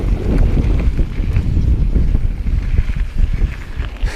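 Strong wind buffets the microphone outdoors along a mountain bike race course loop near Highline Lake in Fruita, Colorado, a loud continuous low rumble with gusty swells throughout and no talking.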